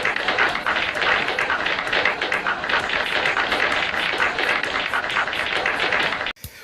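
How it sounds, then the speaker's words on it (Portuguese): An audience applauds for Romilson at a religious gathering, with dense, continuous clapping that stays loud and even for several seconds and then cuts off abruptly. "Uma salva de palmas pro Romilson."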